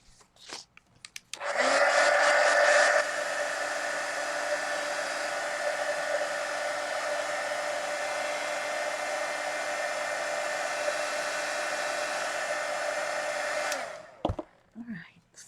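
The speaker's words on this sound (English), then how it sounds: "I'll put a glow on each one with the when I dry it with the heat gun first." A heat gun drying a mixed media artwork blows as a steady, loud whirring hiss for about twelve seconds, starting with a slightly stronger surge and then cutting off near the end.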